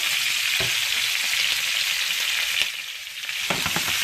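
Chopped vegetables hit a hot pot for shrimp linguini, setting off a loud, steady sizzle with a couple of sharper crackling bursts as more pieces drop in and get stirred; no voices.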